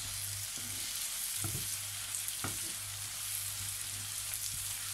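Vegetables sizzle steadily in a frying pan as they are stirred, a constant hiss broken by a few soft scraping knocks of the utensil; no one speaks.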